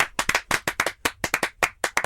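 A few people clap in a loose, fast, uneven rhythm, each sharp close clap distinct, about twenty in two seconds, in the style of a talent-show audience.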